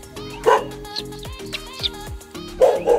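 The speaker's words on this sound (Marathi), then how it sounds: "आणि कुत्रे बघतात." Dogs bark and yip at night near a crab-catching spot, several sharp close barks scattered among whining, tonal whimpers.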